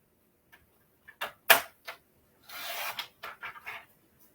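A paper trimmer cuts cardstock down to size with a few soft taps and clicks, one sharp snap, and then a longer, close scraping slide of the blade, all in quiet surroundings.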